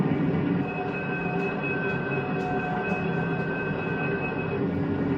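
A 1950s passenger train with high cars rolls along, making a steady, loud, close rumble and rattle of wheels on track that carries on throughout without a break.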